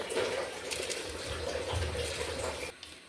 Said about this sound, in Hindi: ये लें जी, पानी को बॉयल आ गया, पानी को नहीं यखनी को।